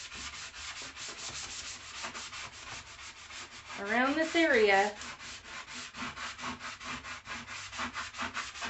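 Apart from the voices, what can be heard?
sanding mirror frame with coarse grit sandpaper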